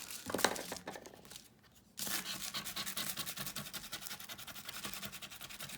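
Craft foil crinkles and tears as it is handled for a Renaissance journal pocket, close and fairly loud, with a short lull before a steady run of dense rustling.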